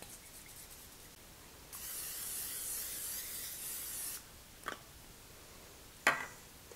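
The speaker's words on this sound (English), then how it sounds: "which I'm going to spray with some cooking spray" Cooking spray hisses steadily into a 9x13 baking dish for about two seconds, followed by a couple of short, sharp clicks and taps nearby.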